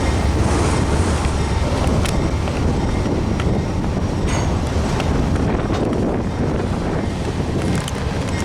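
A freight train rolls past near Riverton, Lincoln or Decatur, making a steady loud rumble with faint clanks, heavily buffeted by wind noise on the microphone throughout.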